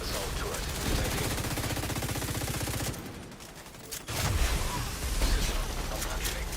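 Hostile assault turret gunfire in The Division 2, rapid bursts of automatic fire for several seconds, a brief lull, then heavy shots resuming, loud and close.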